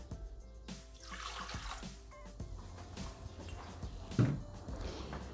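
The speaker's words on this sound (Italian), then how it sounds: "Iniziamo la ricetta mettendo all'interno del boccale l'acqua." Water trickles and splashes into the bowl of a Thermomix TM6 food processor, with light dripping and a brief louder pour near the end.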